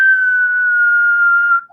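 A human voice imitates an incoming mortar shell, producing a single steady, loud whistle that slides slowly downward in pitch and then cuts off abruptly into quiet.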